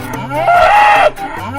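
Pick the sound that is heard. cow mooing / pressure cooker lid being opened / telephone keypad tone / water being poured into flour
cow mooing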